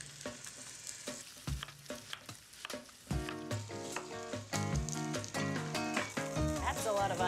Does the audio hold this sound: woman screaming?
no